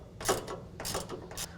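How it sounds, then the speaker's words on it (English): A 1/4 inch ratchet backing out a small self-tapping screw on a truck tonneau cover, three or four quick, quiet clicking bursts in an uneven rhythm, close by with no talk. "I can take that out with a 1/4 inch ratchet."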